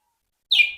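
A green leafbird (cucak ijo) in moult gives one brief, bright, descending chirp, close and clear, after half a second of silence.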